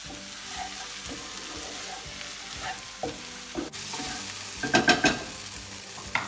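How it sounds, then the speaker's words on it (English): A spicy plant-based mixture stirred in a frying pan, with rhythmic scraping strokes over a steady sizzle and a louder burst of clattering stirs toward the end. "Now we're just going to mix that in, make sure that those flavors get everywhere"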